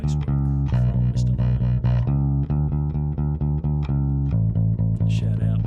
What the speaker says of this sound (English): is the most excellent bass work